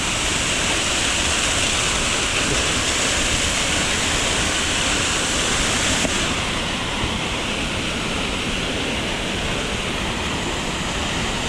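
A waterfall at Rifle Falls State Park roars steadily nearby, a dense, unbroken rush of cold falling water filling the whole clip.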